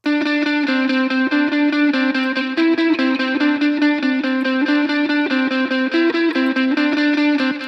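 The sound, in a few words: guitar with delay, reverb and chorus effects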